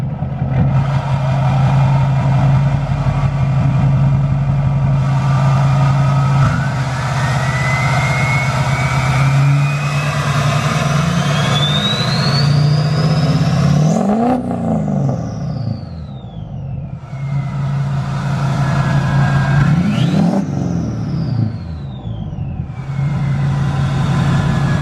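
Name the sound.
Duramax diesel truck engine starting and revving with HSP cold air intake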